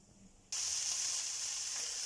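Zucchini, red pepper and parsley hit a hot pan of oil, bursting into loud, steady sizzling that starts abruptly and continues evenly, close up.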